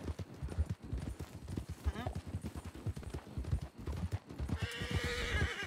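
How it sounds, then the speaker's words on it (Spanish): Horse hooves skidding to a sudden stop in a video game: rapid pounding hoofbeats close up, ending in a whinny near the end, with talk faintly underneath. "La frenada en seco del caballo."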